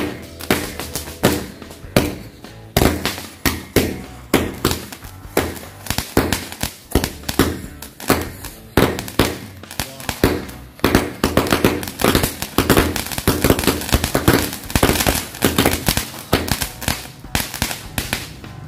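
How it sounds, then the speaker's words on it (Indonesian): A Hercules mini cake 50-shot firecracker pops off continuously, dozens of sharp cracks and thumps in quick succession, loud and close. "selanjutnya iki kita cobain mercon mini cake 50 shot ya dari Hercules"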